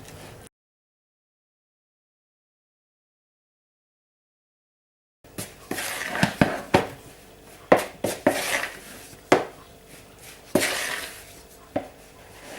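Iced bun dough is mixed by hand in a bowl, giving irregular scraping, knocking and clattering against the bowl after a stretch of silence, close and moderately loud.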